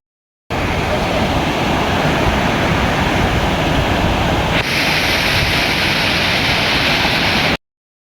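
Jargo waterfall in Swat, a loud, unbroken rush of tumbling water heard up close, steady from start to finish with a slight shift in tone midway.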